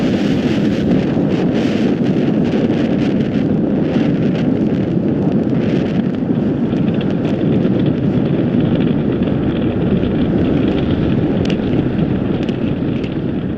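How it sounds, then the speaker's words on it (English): A SpaceX Falcon Heavy carrying Viasat-3 roars about thirty seconds after liftoff, its five million pounds of thrust heard as a loud, unbroken, rumbling crackle from a distance, steady throughout with no voices. "We are 30 seconds into flight under the power of 5 million pounds of thrust."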